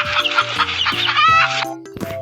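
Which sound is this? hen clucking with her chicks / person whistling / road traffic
hen clucking with her chicks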